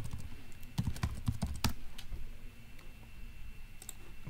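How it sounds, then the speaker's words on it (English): Keys click on a laptop keyboard in a quick burst of close, crisp taps, then slower scattered presses trail off into quiet room tone. "let me see if I can actually type"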